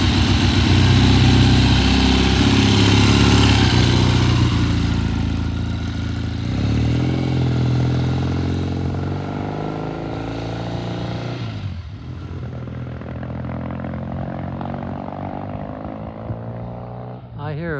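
Triumph TR6 motorcycle engine revving loudly up close, then pulling away and fading as it rides off down the road, with a voice speaking over it.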